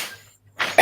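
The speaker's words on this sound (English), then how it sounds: "Excuse me, coughing into the microphone there." A person coughs into a microphone, two short, sharp bursts close together after a quiet pause, loud and close.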